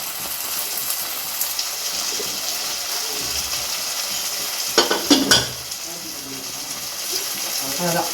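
Tomatoes with salt sautéing in a pan give a soft, steady sizzle, with a few sharp spoon scrapes and clatters as they are stirred, and a voice talking lightly underneath.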